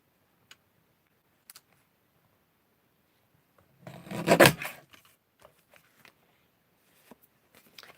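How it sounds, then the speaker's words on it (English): A single brief rasping cut as paper is trimmed for card making, close and quiet, surrounded by faint scattered ticks and taps in an otherwise silent room. "I'm just going to give this a little trim because it's overhanging ever so slightly."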